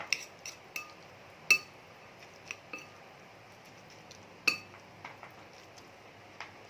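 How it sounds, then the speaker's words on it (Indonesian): A utensil stirs seasoning into instant noodles in a bowl, giving faint, scattered clinks and taps at an uneven rhythm against a quiet background. "Oke, kita aduk-aduk supaya rata ya"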